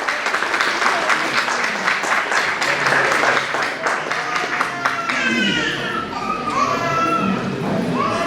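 Applause from a conference audience welcoming a speaker on stage, steady dense clapping throughout, with some children's voices and chatter mixed into the crowd noise.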